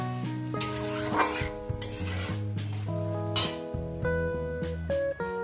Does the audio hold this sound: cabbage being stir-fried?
yes